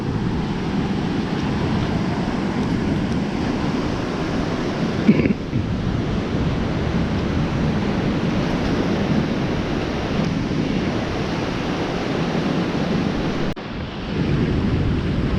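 Sea waves wash steadily onto a beach near an old shipwreck, a continuous broad surf roar with some wind buffeting on the microphone and no speech.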